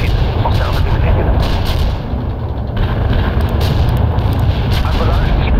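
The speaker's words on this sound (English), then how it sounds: "Our barrage hit the target." An artillery barrage in the war game World in Conflict rumbles as a dense, continuous roll of heavy booms and blasts, loud and close, with voices talking over the din.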